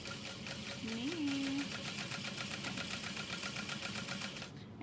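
A sewing machine runs steadily, stitching a seam about an eighth of an inch from the outer edge of a fabric connector while making a Harriet bra, with a continuous rapid mechanical whir for nearly five seconds before stopping.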